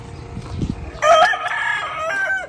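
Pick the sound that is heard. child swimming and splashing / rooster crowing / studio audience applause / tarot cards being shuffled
rooster crowing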